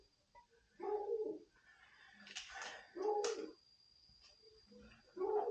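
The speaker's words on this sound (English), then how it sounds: "That dog." A dog gives several short whimpering, cooing vocalizations in separated bursts, fairly close, in a quiet garage setting during a front wheel bearing and axle replacement.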